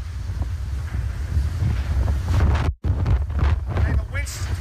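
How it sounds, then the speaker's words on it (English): Hurricane-force wind from a Category 4 storm in Texas gusts hard and roars against the microphone, buffeting in surges with a brief dropout, while people speak faintly underneath. "It's gusting different directions."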